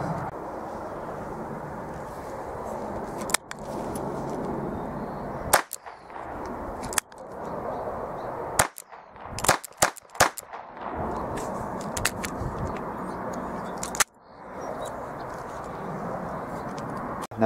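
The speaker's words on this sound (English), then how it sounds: "after firing your Ekol Viper blank gun using nail gun blanks" Ekol Viper .22 blank revolver, a Colt Python replica, firing nail gun blanks outdoors: several sharp, sudden cracks at irregular intervals, some in quick succession, over constant background noise.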